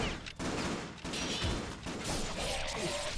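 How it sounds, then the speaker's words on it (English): Gunfire in the Ninja Gaiden Sigma video game on Master Ninja difficulty, a rapid burst of cracking shots and impacts mixed with clashing combat effects, moderately loud with brief gaps. "your gunfire can break my block"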